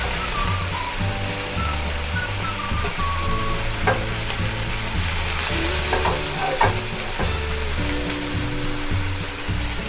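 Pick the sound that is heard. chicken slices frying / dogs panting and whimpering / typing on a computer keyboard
chicken slices frying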